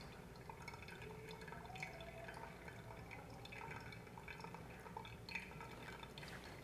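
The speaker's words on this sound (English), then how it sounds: "Now we're gonna wait for the water to pass through the coffee." Coffee drips steadily through a V60 pour-over filter after a 300-gram water pour, a soft, quiet patter of droplets falling into the vessel below with no talking.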